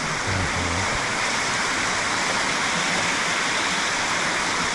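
Water rushing over rocks beside the ocean, a loud, continuous broadband roar filling the scene steadily from start to end, close by, with a brief voice at the very start.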